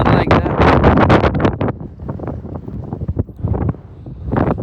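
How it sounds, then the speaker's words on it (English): Strong gusts buffet the microphone on a snowy mountain top near a frozen lake, loud roaring bursts that rise and fall unevenly, with a brief lull before the wind surges again. "Very windy."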